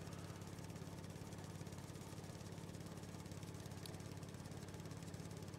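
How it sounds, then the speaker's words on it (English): A lawn mower in Farming Simulator 19 drones steadily with a constant mid-pitched engine hum and rapid even pulsing, continuous and moderately quiet with no speech. "this is what I do every time that I mow this lawn."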